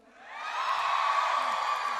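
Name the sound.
studio audience shouting and cheering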